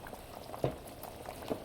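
Chicken tortilla soup simmers in a pot, a soft, faint bubbling with a few distinct blips and pops over a quiet liquid murmur.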